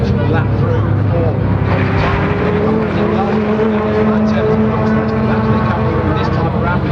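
Rallycross cars race at Silverstone, their engines droning loudly and rising and falling in pitch as they rev through a lap, with a commentator talking over the roar.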